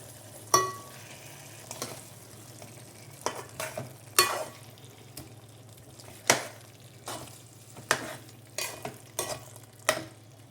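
Fish pieces frying in a pan of softened onions for fish korma, with repeated clattering stirs and scrapes over a steady low sizzle, close and fairly loud, no voices.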